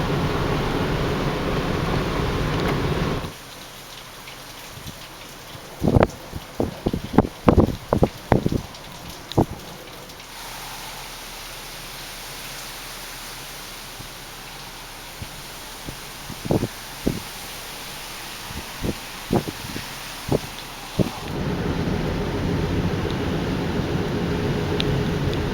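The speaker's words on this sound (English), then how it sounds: "It's raining. There's thunderstorms in the valley earlier." Steady rain falls during a storm outing in Lathrop, in California's Central Valley, a broad hiss that drops away midway while scattered sharp clicks and taps sound close by before the rain returns.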